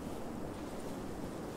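Soft, steady rushing water ambience from the video game Gylt, a faint continuous wash of noise with no voices.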